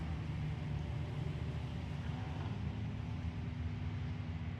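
Race car rolling down pit road during a WRL endurance race at Barber, a steady low engine rumble and road noise held at moderate distance throughout, with no voices.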